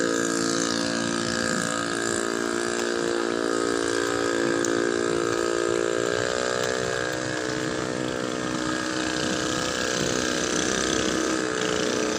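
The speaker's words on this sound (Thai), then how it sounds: "เทียบเรือแล้วนะครับ" A boat engine drones steadily while docking at a temple pier on a canal, a constant loud rumble with a humming tone that shifts slightly in pitch, with no voices.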